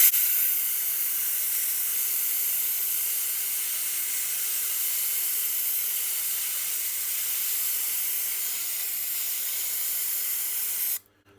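A Tormek sharpening wheel is roughened with an 80 grit stone, giving a steady, even hiss that runs unchanged for about eleven seconds and then cuts off abruptly.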